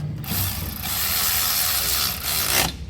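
Continuous ratchet clicking while tightening a 13mm bolt on a Nissan Navara NP300 diesel, close and steady for the whole stretch with no talk.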